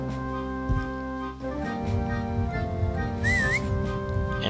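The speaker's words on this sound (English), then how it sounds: "he will whistle again and call for more weasels to antagonize you" A character whistles in the 1994 Sega Mega CD game Mickey Mania, a short rising-and-falling whistled phrase over looping chiptune music.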